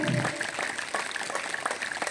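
Audience clapping at a college National Yoga Day event honouring Patanjali Yog Samiti, a steady moderate patter of many hands filling the short stretch, with voices mixed faintly underneath.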